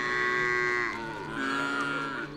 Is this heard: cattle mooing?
yes